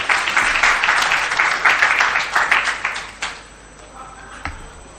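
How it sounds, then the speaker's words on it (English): Applause from an audience at a public forum on the 2022 budget, a dense round of clapping that holds steady for about three seconds, then thins out and fades with a few scattered claps. "A round of applause again, ladies and gentlemen."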